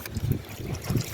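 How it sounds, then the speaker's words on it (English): Water trickles into a cooking pot for a Jamaican mango chicken stew, a soft, close pouring splash with gentle pulsing gurgles, fairly faint and without talking. "Add little water to it."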